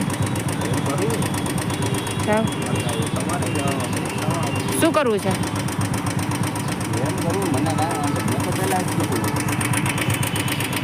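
A motorbike engine idles steadily with a rough, pulsing rumble while people talk nearby.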